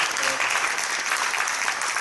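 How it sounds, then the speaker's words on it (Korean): Warm applause from a church general assembly audience for the incoming president, a dense, steady wash of many hands clapping throughout, close and uniform. "차기 회장님 뜨거운 박수 한번 해주시기 바랍니다"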